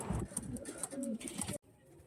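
A female Kaldoma pigeon coos softly in a few low, throaty phrases close by, with light clicks and rustles before the sound cuts off abruptly.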